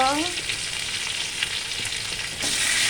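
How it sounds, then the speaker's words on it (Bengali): Elephant foot yam with green chili, turmeric and salt fries in a pan, a loud continuous sizzle broken by scraping as a spatula stirs it. "খুন্তি দিয়ে ভালো করে নাড়ছে"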